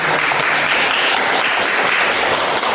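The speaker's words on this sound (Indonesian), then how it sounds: "Beri tepuk tangan." Loud, sustained applause from a fifth-grade class, steady clapping filling the whole moment with no pauses.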